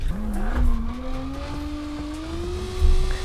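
A drift car in BeamNG Drive on a track, its engine holding a steady rising whine as the tires squeal through a slide, loud and continuous with no talk.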